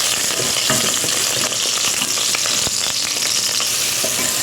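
Garlic sautéing in hot oil in a pan, a loud, dense and continuous sizzle with scattered crackles and a few sharp spatula clicks.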